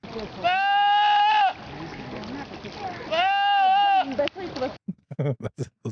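A voice imitates a screaming goat with two long, drawn-out bleating cries, followed by brief talk.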